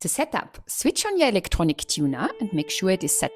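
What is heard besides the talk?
No distinct noise like a dog, phone or traffic.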